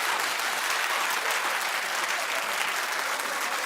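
Studio audience at a daytime talk show breaks into sustained, even clapping, a thick uniform roar of many hands with no pauses.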